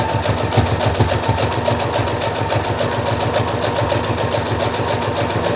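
A sewing machine stitches a designer pocket close to the edge, running in a fast, steady rhythmic chatter of needle strokes, loud and near with no talk.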